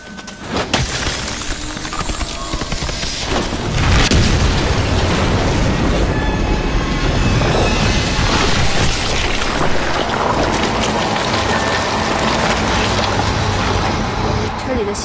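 Clams bursting in a cave in a drama sound effect: a loud crashing, shattering blast that rolls on as dense rumbling debris, with voices over it.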